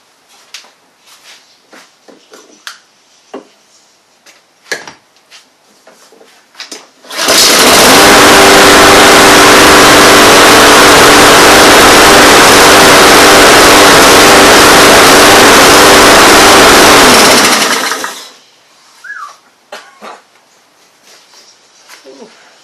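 A Honda engine on a Troy-Bilt machine is pull-started and roars to life, running loud and steady for about ten seconds before cutting out, with quieter handling noises before and after.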